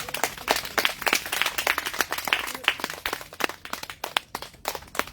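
A church congregation clapping during a sermon, brisk irregular handclaps from many people at moderate distance, fairly faint and without speech.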